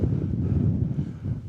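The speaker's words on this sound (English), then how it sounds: "it's a bit windy" Wind gusting across an exposed Lake District hilltop, buffeting the microphone with a loud, steady low roar and rumble that swells and dips briefly without pause.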